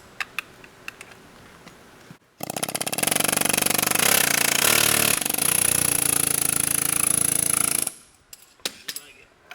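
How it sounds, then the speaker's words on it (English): A loud pneumatic air hammer rattles rapidly for about five seconds on car front-end parts, preceded and followed by quieter workshop clatter. "But you just take your air hammer, see right there."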